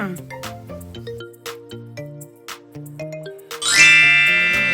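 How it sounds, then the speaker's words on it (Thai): A telephone ringtone plays a bright, chiming melody of repeating electronic notes, ending in a louder, shimmering flourish. "โทรศัพท์ ใช้ติดต่อสื่อสาร พูดคุยกันทางไกล โดยคลื่นไฟฟ้าค่ะ"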